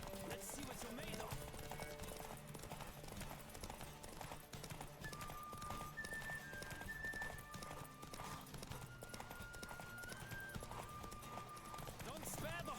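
Hooves pound in a galloping horse race in The Witcher 3, a steady rapid clip-clop running throughout beneath game music and spoken dialogue.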